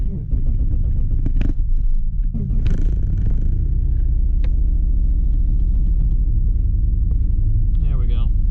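An old truck that has been sitting idles after a jump start with a misfire, a low uneven rumbling engine that runs on through the clip while a voice talks over it.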